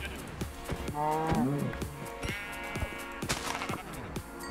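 A Minecraft cow lets out several loud, near moos, mixed with sharp repeated hit thuds as it is struck, with game sounds in the background.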